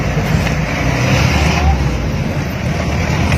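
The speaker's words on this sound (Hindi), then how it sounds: "ये जो जीप है ये 4x4 व्हील है" A 4x4 jeep grinds along the dangerous mountain dirt track to Fairy Meadows, its engine a steady, loud low rumble with road noise throughout and no clear pauses.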